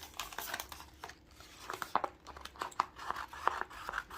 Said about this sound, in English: So I decided to flip my vinyl over.